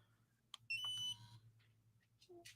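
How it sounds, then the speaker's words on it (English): A quiet electronic beep chirps briefly over a low steady hum, followed by a fainter second tone. "You heard it beep, and when it beeped the second time, it means it connected to the phone."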